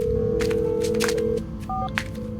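A telephone being dialed in a Hindi audio drama, with steady tones broken by short beeps and clicks, clear and close, alone without talk.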